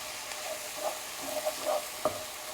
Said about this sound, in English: Now we're gonna slowly stir in a half a cup of marsala.